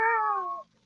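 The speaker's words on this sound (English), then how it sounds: "Damn cat." A single cat meows once, loud and close, a drawn-out cry that fades after about half a second, with nothing but quiet around it.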